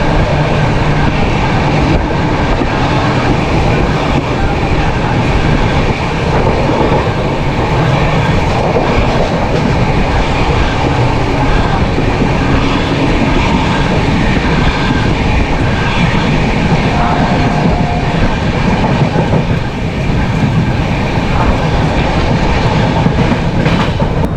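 Howrah Barmer superfast express train running through Andul Junction, with a loud, steady rumble and continuous rattling clatter of wheels on rails throughout, heard from on board.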